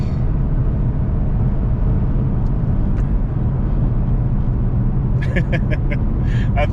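A VMP supercharged 2013 Mustang GT cruising, heard from inside the cabin as a steady, loud low engine and road drone, with a few faint voice sounds near the end.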